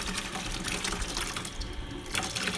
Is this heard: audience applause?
no